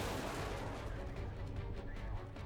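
Missiles firing in the strategy game Xenonauts 2 during an air interception, a dense rumbling barrage of booms and blasts filling the whole clip at steady loudness.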